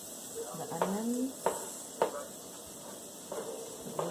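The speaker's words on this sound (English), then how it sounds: "Hear it already, it's sizzling already before everything goes inside." Bell peppers and onions sizzle steadily in a hot pan while a spatula scrapes and stirs, with a few sharp clinks and a voice speaking softly underneath.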